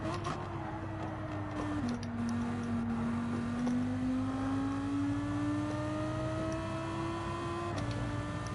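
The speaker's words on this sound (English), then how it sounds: "Loving the sound of the V10." A high-revving Lamborghini V10 GT3 race car engine in Gran Turismo 7 holds a steady whine that shifts pitch with gear changes, droning continuously and close throughout with no voices.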